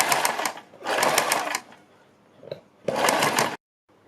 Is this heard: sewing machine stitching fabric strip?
yes